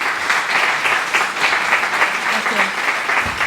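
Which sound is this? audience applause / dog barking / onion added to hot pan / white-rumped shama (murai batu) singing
audience applause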